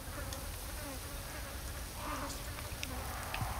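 Flies buzzing over corpses in the Resident Evil 4 remake video game, a steady, faint, continuous insect drone with small swells, heard alone.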